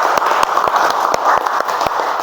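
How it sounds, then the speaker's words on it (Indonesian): Classroom of students applauding during a history lesson, a short burst of brisk, uneven clapping with several sharp distinct claps close by, no speech over it. "berikan tepuk tangan sekali lagi"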